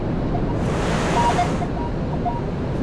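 Ocean waves wash up a beach, loud and close, one swelling rush building and then receding under steady wind noise.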